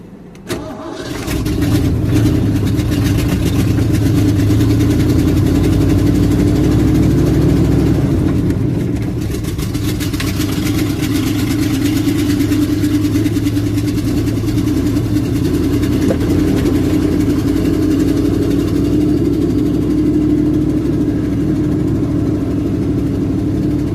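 A carbureted car engine idles steadily close by, a loud, even rumble that runs on without a break from start to finish, with no voices over it.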